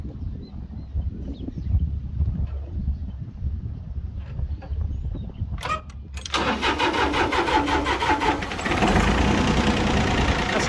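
A Mitsubishi three-cylinder diesel in an International 244 tractor cranks over and catches about six seconds in, then settles into a steady, loud, close idle that rises slightly near the end.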